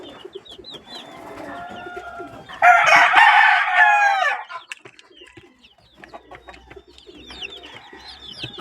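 Grown chicks, now adult chickens, clucking and calling in a loud close burst mid-clip, with softer scattered clucks before and after and no talking.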